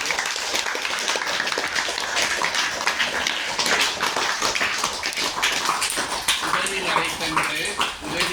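Audience at a Trichy mental health home clapping to thank a donor, continuous dense applause mixed with a speaking voice throughout.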